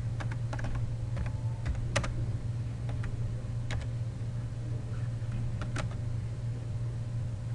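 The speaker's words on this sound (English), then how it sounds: "And then you go in and type your message out." Computer keyboard being typed on to write a message, irregular clusters of light key clicks close by over a steady low electrical hum.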